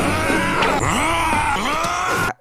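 A voice imitates Wolverine's signature scream: a loud, close, strained howl with rising and falling pitch sweeps, held for about two seconds before cutting off abruptly.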